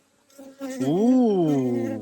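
Honeybees buzzing during an open hive inspection, a steady, loud, close insect drone with a rising and falling pitch that swells in after a quiet start and holds to the end.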